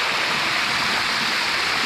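A forest waterfall roars steadily and loudly close by, a dense unbroken rush of falling water with no voices over it.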